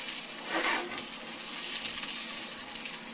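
Sausage sizzling in a hot pan, a steady bright crackle and spit with a brief louder swell, heard close and alone.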